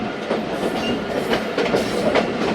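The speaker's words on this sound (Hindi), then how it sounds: "9 तक रेलवे स्टेशन पास कर रही है ट्रेन" A Thal Express passenger train running past a railway station, heard from on board: steady rumbling wheels with a rhythmic clickety-clack over the rail joints, continuous and close.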